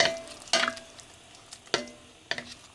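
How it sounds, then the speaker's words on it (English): Spoon stirring tomato sauce in a pot for spaghetti and meatballs, four separate scraping strokes spaced about a second apart, each a short bright scrape over a quiet background. "We are going to stir it in."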